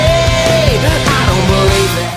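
A short excerpt of a pop-punk song from the band's first album, loud and dense, with a steady thumping beat and a sustained vocal-like melody line over the full band.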